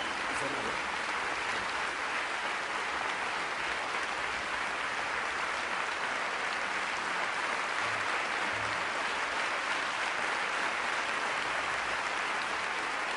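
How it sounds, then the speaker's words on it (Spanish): A large crowd at a political rally, the PSE-EE Fiesta de la Rosa, keeps up steady, distant-sounding applause for over ten seconds, a dense even roar of clapping without pause. "Hoy simplemente quiero que demos un enorme aplauso a la libertad."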